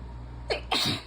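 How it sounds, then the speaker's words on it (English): A person sneezes close up, a short sharp sneeze followed quickly by a second, larger burst, over a steady background hum. "gonna sneeze again soon."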